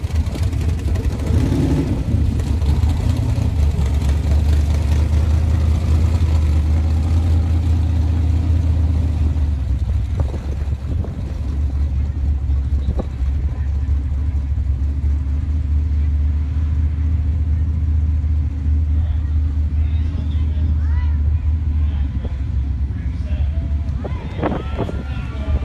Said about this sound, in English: Tractors are heading back, so our next period will be starting up here pretty quick.